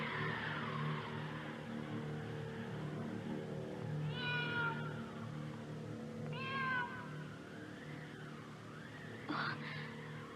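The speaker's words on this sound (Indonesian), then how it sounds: "Sepertinya kucing itu sedang marah, Nila." Angry cat meowing in two or three drawn-out, wavering yowls over a low engine-like rumble, followed by a short sharp cry near the end.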